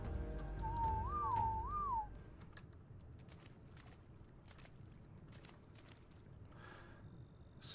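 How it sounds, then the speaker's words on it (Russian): A short wavering whistle from the video game ARK: Genesis sounds twice in quick succession, clear and moderately loud, followed by faint footsteps and quiet ambience. "Свист."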